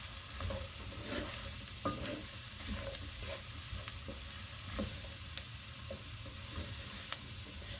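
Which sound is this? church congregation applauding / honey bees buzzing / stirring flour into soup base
stirring flour into soup base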